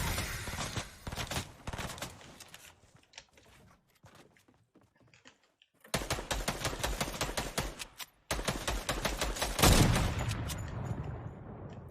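Gunfire bursts rattle in a duo squad battle royale video game, loud rapid volleys that thin to sparse shots, pause briefly, then return as dense sustained bursts.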